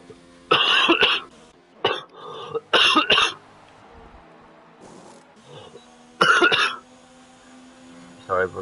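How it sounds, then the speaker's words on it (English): Several harsh coughs come in separate bursts, close and loud, spaced out with quiet pauses between them. "trying to my best to keep coughing to a minimal"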